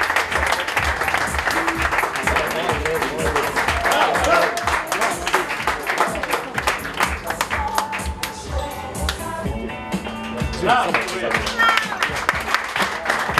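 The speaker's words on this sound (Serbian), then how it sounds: "Veliki aplauz za Bojana Buduliju, molim vas" Crowd at a charity jersey auction applauding, with dense continuous clapping from many hands across the whole stretch, loud and near, with voices mixed in.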